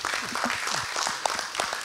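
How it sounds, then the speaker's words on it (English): Audience applause after a live cardiac case presentation at a medical conference, a steady wash of many hands clapping under a few overlapping voices. "I hope you can hear the applause"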